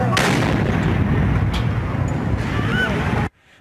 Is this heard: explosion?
yes